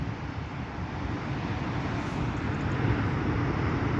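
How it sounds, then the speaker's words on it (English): Atlantic sea surf bashing against the beach below a dramatic cliff, heard from a few meters up: a steady, loud broadband roar with wind buffeting the microphone, continuous with no distinct breaks. "it's the sea, it's the Atlantic, bashing against the beach below me."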